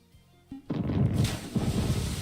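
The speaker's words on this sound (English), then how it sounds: "Obliterated it with my cannon" Ship cannon in a video game firing at manta rays, a loud booming blast followed by a rumbling roar that lingers, heard alone.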